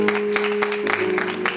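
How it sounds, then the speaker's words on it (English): A church congregation claps along during a gospel service, steady and loud hand claps layered over sustained organ or keyboard tones, with a lively room sound. "just clap your hands and bless Jesus."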